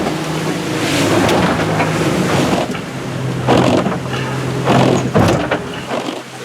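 A Monaro 298 powerboat runs at about 3,000 RPM through two-to-three-foot ocean chop, its steady engine drone carrying under rushing water and repeated hull slaps and splashes as the bow meets the waves.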